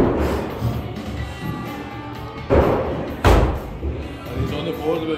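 Thrown axe striking a wooden target at an axe-throwing venue in Glasgow, two solid thuds standing out over indoor background chatter.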